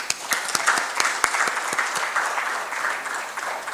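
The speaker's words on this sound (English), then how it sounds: "I would like to give them a big round of applause" An audience at an award ceremony applauds the competition judges with a steady, fairly dense round of clapping, with a few sharper individual claps standing out.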